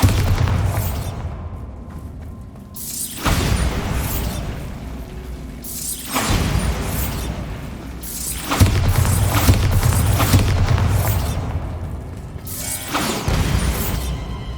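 Bombarda spell blasts in Hogwarts Legacy go off as a series of loud booming explosions, each with a crashing, shattering burst and whooshing tail, repeating every few seconds with no talk.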